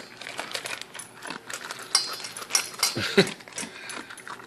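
A dog eating Canyon Creek Ranch chicken and brown rice dog food makes close, irregular crunches, clicks and chewing noises of kibble against a bowl, with uneven loud bursts and no talk.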